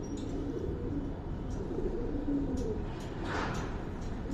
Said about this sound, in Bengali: আচ্ছা, এই একটা কবুতর